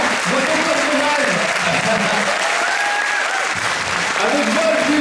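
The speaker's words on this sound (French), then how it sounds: "je vous demande de l'applaudir, c'est ma photographe" Sustained audience applause at a TGS 2011 gaming convention talk, steady and dense for the full stretch, with a voice speaking over it throughout.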